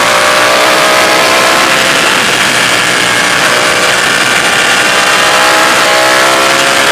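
A Ducati 899 Panigale accelerates hard with its quick shifter in use on a fast road run, a loud, close, continuous engine roar with no pauses in the drive and no voices.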